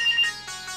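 A mobile phone ringtone sounds out in a short, steady melodic run of bright repeating tones, with no voices over it.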